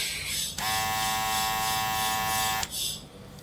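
A small Wrogn electric facial trimmer switches on and buzzes steadily for about two seconds with a bright, high whine, then cuts off, with room noise around it.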